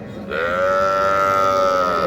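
A single loud, sustained moo from a dairy cow at a cattle market starts after a brief pause and holds steady to the end, with no talking over it.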